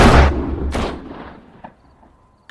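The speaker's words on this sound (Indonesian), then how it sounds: "Saat pintu dibuka, sudah ada si Abah di sana, lalu dia menembaki mereka semua." Two sharp, booming gunshots in quick succession from the film Don't Breathe, each trailing into a reverberant decay, followed by faint clicks and a brief thump at the end.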